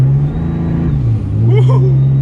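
A truck tuned with a Smarty tuner accelerates hard, its engine droning loudly up close, dipping briefly, then climbing again as a voice whoops over it.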